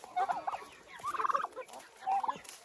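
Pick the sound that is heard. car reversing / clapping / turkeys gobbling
turkeys gobbling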